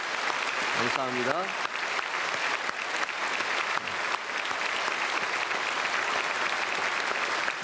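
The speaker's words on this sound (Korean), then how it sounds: "박수로 축복하겠습니다." A church congregation at a Sunday worship service applauds steadily and loudly throughout, with a brief spoken thanks near the start.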